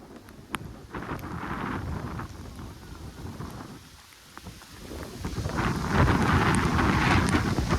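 Konkan's first monsoon downpour pours steadily with wind, and a low rumble of thunder swells louder toward the end. The storm sounds close and there is no talking.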